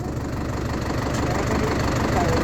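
A Yanmar S75 tractor runs steadily while leveling soil for planting sugarcane, its engine a close, continuous low chugging rumble with no break.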